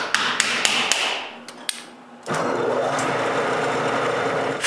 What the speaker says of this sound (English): so I cut a bit of wood